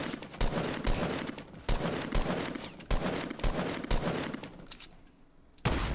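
Gunfire in the video game Fortnite: rapid bursts of shots crack out repeatedly in quick succession, fairly loud and close, with brief pauses between volleys and no talk over them.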